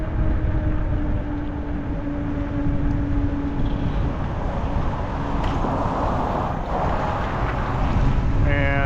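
Steady strong wind gusts roar across the microphone throughout an e-bike ride on a Jasion EB7, a continuous heavy buffeting rumble with a faint hum beneath.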